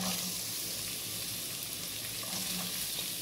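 Chicken and onion fry in a pan, giving a steady, close sizzle that stays even throughout with no talking over it.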